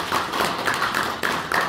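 Audience applause at a candidates' debate for the Asan mayoral by-election, a brief burst of clapping from a hall crowd, steady and fairly close.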